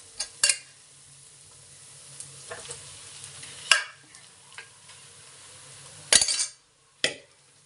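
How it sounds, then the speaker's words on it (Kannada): Rice being stirred into a pan of green fried rice with lemon juice, the gas already switched off: soft scraping and stirring under a faint low sizzle, with a few sharp clinks of a utensil against the pan. "ಫ್ರೆಂಡ್, ರೈಸ್ ಹಾಕಿ ಎಲ್ಲನೂ ಮಿಕ್ಸ್ ಮಾಡಿದ್ದೀನಿ"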